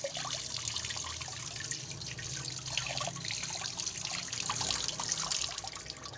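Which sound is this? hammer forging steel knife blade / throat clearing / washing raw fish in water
washing raw fish in water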